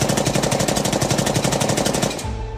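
Rapid automatic gunfire in a news report on the Pahalgam attack and India–Pakistan tensions, a loud, dense burst of machine-gun shots for about two seconds that stops abruptly, leaving a faint tail.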